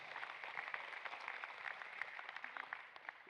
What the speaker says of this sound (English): So round of applause, please, for first of all, Great Dane Photos, who are sponsoring Nationals.